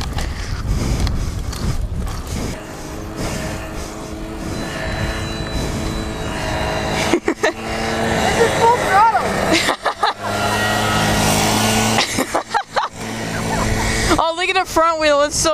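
A small 50cc two-stroke quad engine buzzes and revs while riding on a dry lake bed, close and loud with rough wind buffeting and dropouts, ending in rapid revving; people talk over it at times.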